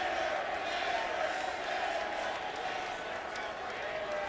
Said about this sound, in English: they are finishing chanting Nader's name